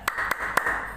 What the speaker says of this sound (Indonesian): Kita bersama-sama tepuk surat An-Nas.